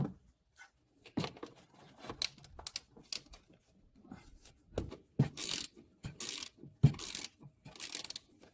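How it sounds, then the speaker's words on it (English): A 10mm wrench working screws loose on a 3rd-gen Toyota Tacoma, sounding as bursts of quick ratcheting clicks and metallic turns separated by short pauses, close and fairly loud. "we just need to take out 3 screws here, 1, 2, and 3 in the back here with our 10mm wrench."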